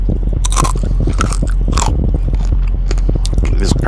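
Loud, close crunching as someone bites into crispy bacon, several sharp crackly bites and chews packed into a few seconds, with a few short spoken words in between.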